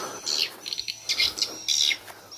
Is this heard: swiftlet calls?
yes